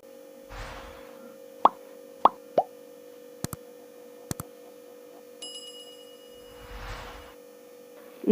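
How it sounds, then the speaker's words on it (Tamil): Ground parboiled rice batter is poured into a kadai, giving two soft wet splattering bursts at the start and end. Several sharp clicks and plops fall between them, all over a steady low electrical hum. "இதை இப்போ வடைச்சட்டியில் ஊற்றி வதக்கணும்."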